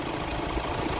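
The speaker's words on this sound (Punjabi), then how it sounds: "ਗੱਡੀ ਦਾ ਇੰਜਣ ਵੀ ਸਾਊਂਡ ਵੀ ਬਿਲਕੁਲ ਓਕੇ ਆ" A Hyundai Creta engine idles after an overhaul, a steady close rumbling drone with a dense, even texture and no voices.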